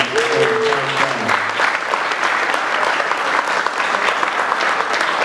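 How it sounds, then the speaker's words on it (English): An evening event crowd gives sponsors a loud, sustained round of applause, with continuous clapping throughout and a brief voice audible at the start. "Please give them a big round of applause."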